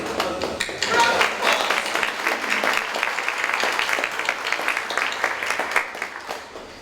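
A book-week audience claps in a loose burst of applause that starts strong and thins into scattered claps, with talking over it.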